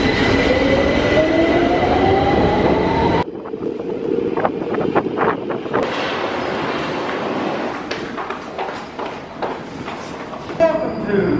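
A train pulls into Stockport Station, a steady rumble with rising wheel and brake tones that drops off sharply, then platform clatter and scattered knocks follow under an announcement voice.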